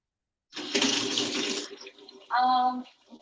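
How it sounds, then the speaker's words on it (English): Tap water gushes into a kitchen sink for about a second as something is rinsed quickly, followed by a brief tonal, voice-like burst and softer trailing sounds. "I'm going to wash this real fast."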